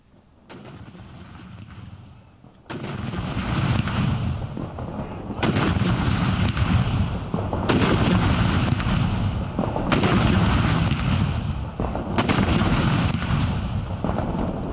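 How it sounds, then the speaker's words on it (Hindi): Cannon salute fired at Jinnah's mausoleum in Karachi on Pakistan's Independence Day, a series of loud booming blasts recurring every couple of seconds over a sustained rumbling wash of outdoor ambience. "आज अली अलसुबा तोपों की सलामी भी पेश की गई।"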